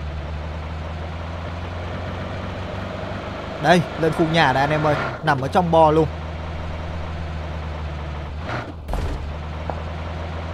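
A vehicle engine in the video game PUBG Mobile, a steady low droning motor running throughout, with someone talking over it in several bursts.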